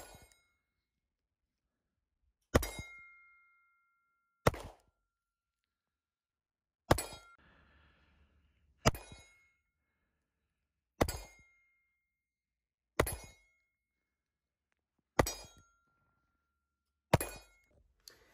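Springfield Hellcat pistol shots at a shooting range, nine sharp isolated reports spaced roughly two seconds apart, each with a short decaying tail, over an otherwise quiet background.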